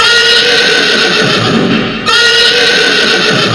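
A voice imitates a galloping horse as a loud, sustained neighing call that breaks off briefly midway and then resumes, heard alone.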